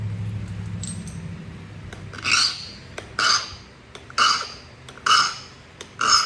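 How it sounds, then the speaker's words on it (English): Stone dagger edge being sharpened with a stone, five rhythmic back-and-forth rasping strokes about a second apart, close and fairly loud, with a low hum early on. "Sharpen this up."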